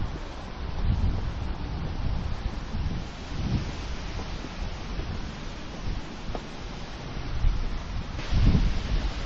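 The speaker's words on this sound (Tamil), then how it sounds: "அடிக்கிற காற்றுக்கு முடியல" Strong wind blows at an open city viewpoint in Baku, roaring continuously and buffeting the microphone with low gusty rumbles that swell and ease throughout, with no voices heard.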